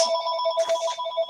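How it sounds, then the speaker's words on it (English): A telephone rings steadily during a design review committee meeting, its electronic tone loud and close and repeating in a continuous pattern with no talking. "that's my phone"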